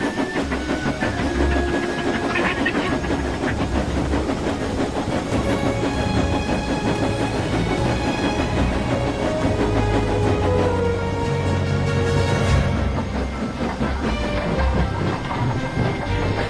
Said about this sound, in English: Then the driver pulled the lever and the engine puffed away.